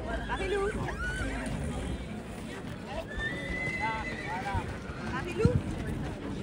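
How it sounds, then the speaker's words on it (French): Horses presented at a spring fair in France whinny now and then, and hooves clop over steady crowd noise, with one sharp, strong neigh near the end and people talking throughout. "amenez-nous quelques chevaux, un âne ou deux, pour la photo"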